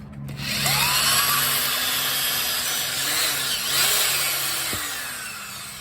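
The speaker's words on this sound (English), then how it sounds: "Don't forget to drill out the hole." A power drill whirs steadily at close range for several seconds, its motor pitch dipping and rising as the bit drills out a hole during a front wheel bearing replacement on a 2005 GMC Savana van.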